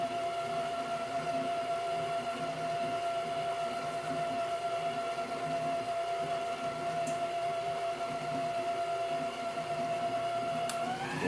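An electric mixer running on its second speed through chocolate layer cake batter, a steady mechanical whine with a constant motor hum that shifts pitch near the end.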